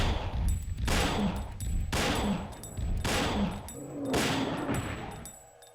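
Gunfire in the video game Dino Crisis: a run of evenly spaced, heavy booming shots, about five in a row, each with a long rumbling tail, close and loud with no talk.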